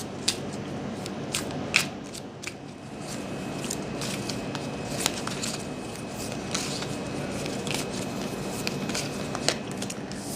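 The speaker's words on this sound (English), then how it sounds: "So as I go ahead and shuffle the cards" Tarot cards being shuffled by hand, a steady soft papery riffling with scattered sharp snaps and slaps of the cards, close up over a quiet background hum.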